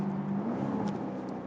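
A 575 hp Jaguar F-Type R Roadster engine hums and revs steadily at moderate volume while the car is driven early on a winter morning.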